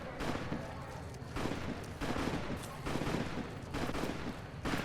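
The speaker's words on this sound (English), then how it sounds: "here I hear the gunshots" Gunfire in Fallout New Vegas comes as several bursts of rapid shots at intervals, fairly distant and muffled, with no voices.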